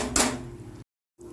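A brief clunk of a lid set onto a pan of paneer gravy, followed by quiet kitchen background that abruptly drops to silence.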